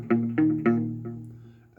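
Guitar open strings picked one at a time, three ringing plucks about a quarter second apart that sustain and fade, with a fresh pluck at the end, close and fairly clear with no talking.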